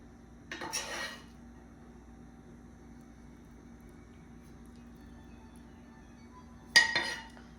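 Shrimp and kale are portioned into a high-sided bowl, with two short bursts of utensils clinking against dishes separated by a long quiet stretch of faint background hum.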